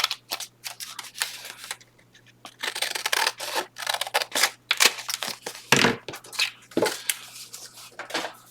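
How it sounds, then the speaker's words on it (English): Scissors snip through excess fabric in a run of close, crisp cuts with short pauses between bursts; the work is fabric crafting with ruffles and pockets made from scraps. "Now I'm just going to trim the excess of this off."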